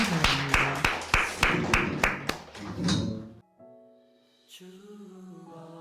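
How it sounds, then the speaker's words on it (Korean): A church congregation clapping during a Sunday service, about eight strong rhythmic claps over three seconds, then a hush before sustained sung tones begin. "우리 박수로 하나님께 영광 드리겠습니다"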